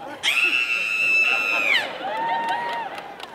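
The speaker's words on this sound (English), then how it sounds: "you want to hear me scream like a girl?" A man gives a loud, sustained high-pitched scream that holds steady, then slides down and trails into a lower wavering cry, with some background voices, at a comic convention panel.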